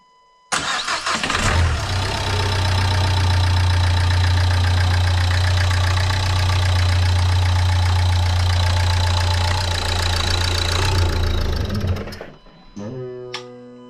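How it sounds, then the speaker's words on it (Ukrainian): A Nissan Qashqai 1.5 K9K diesel engine cranks and fires on its first start after a timing belt and water pump replacement, running loud and steady for about eleven seconds before cutting out abruptly, followed by a brief faint whine. "Пробуємо заводити. Перший запуск."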